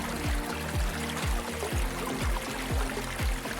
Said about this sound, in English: A soft rush, a splash, a ripple echoing down stone alleys.